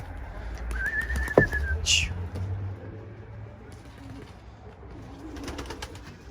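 A pigeon coos once, briefly, over outdoor background noise near a rooftop where homing pigeons are being flown, with a thin whistle-like tone and faint voices around it.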